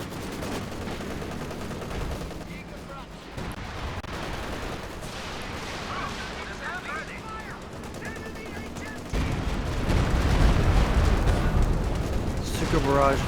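A war video game match sounds with barrage explosions and gunfire, a dense, continuous mix of booms and rattling shots that swell louder and heavier near the end, with commentary voices running over it.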